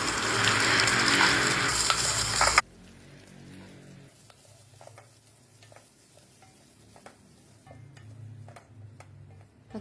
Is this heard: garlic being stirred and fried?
yes